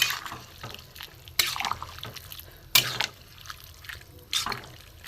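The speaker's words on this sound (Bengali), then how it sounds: "এটা আমি আস্তে আস্তে ঢেলে দেবো, জল সমেত দেবো, অল্প অল্প জল আছে।" Mixed vegetables poured slowly with a little water into a pan for a vegetable dalna, giving soft wet splashes and drips in a few separate bursts, close and fairly quiet.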